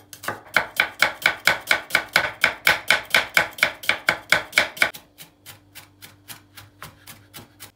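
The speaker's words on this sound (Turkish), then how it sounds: "Soğanı, sarımsağı ve maydanozu doğrayabildiğiniz kadar ufak doğrayın arkadaşlar." Knife chopping onion, garlic and parsley finely on a cutting board for a creamy garlic chicken dish: a fast, steady run of sharp near taps for about five seconds, then slower, softer cuts.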